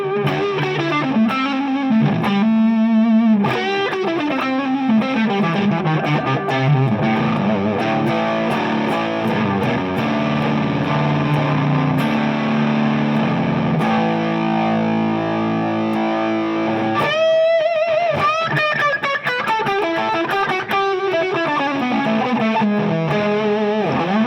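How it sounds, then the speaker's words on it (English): Electric guitar at full volume through a fuzz pedal, a thick, saturated and heavily driven tone; loud sustained chords and bends ring continuously for the whole stretch, close and dense with only brief shifts between phrases. "if I put the guitar in full volume, then the fuzz is gonna sound like"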